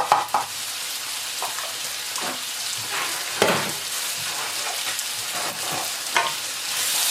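Chopped onions and garlic hit a hot pan, giving a steady sizzle broken by sharp bursts of stirring and scraping, close and clear, with no talk.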